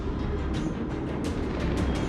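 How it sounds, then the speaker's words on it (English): A Fragmentum monster in Honkai: Star Rail gives off a steady, dense hiss like white noise with faint pulsing surges, filling the moment without any talk. "That noise! Do Fragmentum monsters usually sound like this?"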